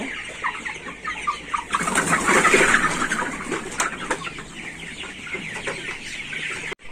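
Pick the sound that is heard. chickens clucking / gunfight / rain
chickens clucking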